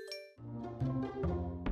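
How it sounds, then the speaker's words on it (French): Small Christmas bells chime and ring in a bright, tinkling burst of several struck tones close by, with no voices over them. "T'entends les cloches tintées?"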